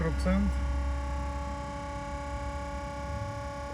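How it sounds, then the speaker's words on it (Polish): A constant mechanical hum with steady tonal drone and airy whir from the cooling fans of a roadside fast charger charging a Nissan Ariya 87 kWh at about 120 kW, with a brief voice at the start. "Trochę hałas wentylatorów"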